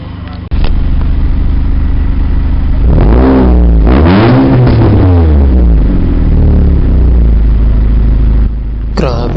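Honda City engine revving through its exhaust pipe, loud and close, rising and falling in sweeping revs over a steady idle rumble before cutting off abruptly.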